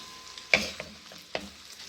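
Onion frying in about two tablespoons of oil in a pan for a lauki chana dal dish, a soft steady sizzle broken by a few sharp stirring clatters, close and alone with no talking.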